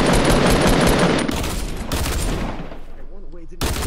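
Dense, rapid video game gunfire, a continuous crackling fusillade that thins out toward the end, with a voice speaking faintly beneath it.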